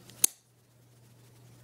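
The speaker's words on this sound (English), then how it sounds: "that actually just hit the bag zipper" A Camillus Carbotri-Titanium tactical folding knife blade strikes a bag zipper once, giving a single sharp metallic click that dies into near silence with faint low hum behind it.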